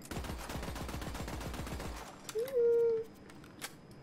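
Revolver fire in the video game Borderlands 3: a quick run of sharp, evenly spaced shots, loud and close, then a short whooshing tone and a couple of faint clicks.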